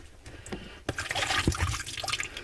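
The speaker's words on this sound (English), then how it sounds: "water leaking out right, water coming out right there." Water gushes and splashes out of a loosened sink P-trap, a close, steady wet rush that starts abruptly after a quieter trickling moment and carries on without speech.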